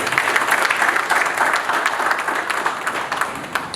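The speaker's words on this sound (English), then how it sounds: "I request we give the AOC another round of applause." Applause from the audience at a military interactive session with retired senior officers, a full round of steady clapping from many hands that fades slightly toward the end.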